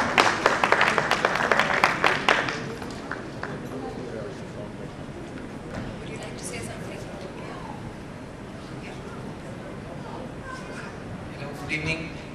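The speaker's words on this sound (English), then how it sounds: "Can we please have a round of applause for him?" Brief burst of audience applause at an education excellence awards ceremony, scattered crowd clapping for a couple of seconds that quickly fades into room noise and a speaking voice.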